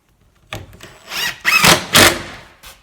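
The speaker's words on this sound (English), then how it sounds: "Putting some screws back in here." A power drill drives screws into the aluminium frame of a teardrop trailer, giving three short, loud whirring bursts close by with brief pauses between them.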